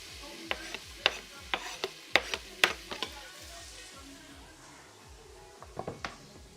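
Food stirred in a cooking pan sizzles quietly, punctuated by a dozen sharp utensil scrapes and clicks against the pan, in bursts early on and again near the end.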